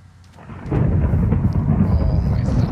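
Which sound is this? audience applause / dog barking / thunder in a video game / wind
thunder in a video game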